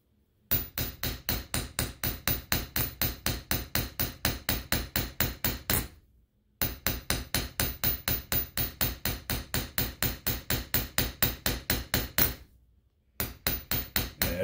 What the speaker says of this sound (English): As you're hammering, it's very important that you keep this coin straight up and down.